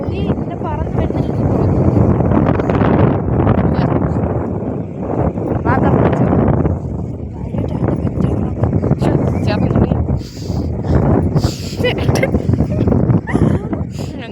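Wind by the sea in Dubai gusting against the microphone, a loud continuous low rushing and buffeting that fills the whole stretch while people talk over it.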